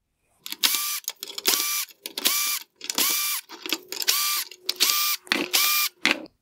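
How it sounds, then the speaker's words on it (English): Screwdriver, likely powered, backing Phillips head screws out of the LED components of a 2016-2019 Honda Pilot/Ridgeline OEM headlight, in about seven short repeated whirring bursts separated by brief pauses, close and fairly loud with no talk. "Next, I'll remove the Phillips head screws holding on the LED components."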